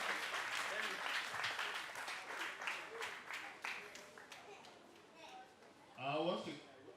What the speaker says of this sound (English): Children, keep clapping until he gets here